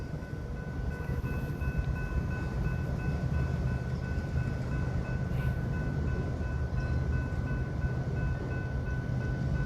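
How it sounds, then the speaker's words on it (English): A train rolls steadily through a junction curve at night, giving a continuous low rumble with a faint metallic whine above it. The sound stays fairly even and moderately distant throughout, with no talking. "I did not know that train was going to go in that junction curve."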